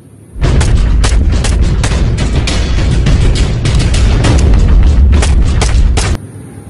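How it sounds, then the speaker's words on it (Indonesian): A toy mini pistol fires in a dense, continuous burst of rapid pops lasting about six seconds, loud and close, with no talking over it. "Wih, mini pistol."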